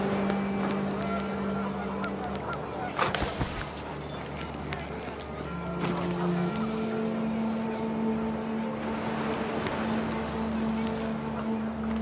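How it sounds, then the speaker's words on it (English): Panicked geese honk in the video game What Remains of Edith Finch as wind picks up, their calls mixed into a busy, layered game soundscape with steady tones and a sharp burst partway through. "Wind picked up, and panicked geese appeared and quickly went."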